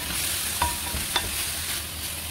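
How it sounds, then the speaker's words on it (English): Minced meat cooking over very low heat in a pot on a stove, with a steady soft sizzle and a couple of brief scrapes as it is stirred, no voices. "Because we are cooking the minced meat in low heat,"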